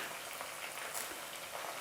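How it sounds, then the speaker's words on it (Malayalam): Chicken pieces fry in hot oil, giving a faint, steady crackling sizzle with no talk over it. "നമുക്ക് ഓരോന്നായിട്ട് തന്നെ വറുത്തെടുക്കാം"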